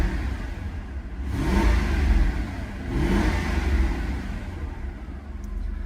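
A rebuilt Lexus engine with a million miles runs close by and revs twice, each rev a smooth swelling whir that falls back to a steady idle, with no speech.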